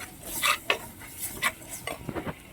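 A spoon stirs turmeric and fenugreek powder into a fish curry in a metal pan in a Kerala kitchen, making scraping clinks in quick irregular strokes, close and fairly loud with no voices.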